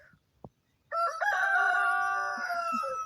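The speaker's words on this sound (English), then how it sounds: "my chickens are being noisy all of a sudden." A rooster crows once, loud and close, in a long drawn-out call, with a few soft clucks from other chickens underneath near the end.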